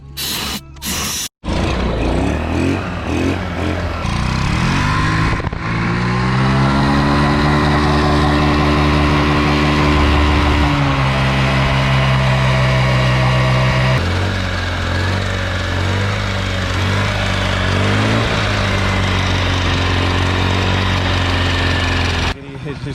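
Honda Ruckus scooter engine running steadily with the throttle held open, a loud continuous drone whose pitch shifts up and down as revs change, after a brief sharp start, with voices faintly underneath.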